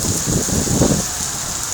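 Heavy rain hisses steadily during a street protest at D Chowk, Islamabad, a dense wash of drops with low rumbling noise and no voices.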